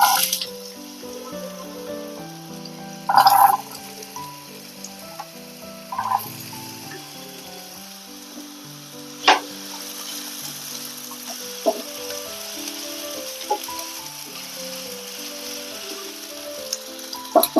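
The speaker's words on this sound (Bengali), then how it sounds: "তেলটা গরম হয়ে গেছে এর মধ্যে আমি আলুটা দিয়ে দেবো" Potatoes drop into hot oil and fry with a soft, continuous sizzle, broken by occasional clatters of utensils, all set under gentle background music.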